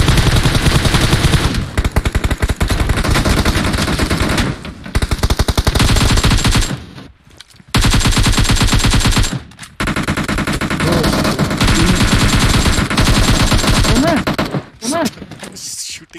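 Automatic gunfire in the mobile battle-royale game PUBG, played on an emulator: loud sustained bursts of rapid shots with brief pauses, under players talking.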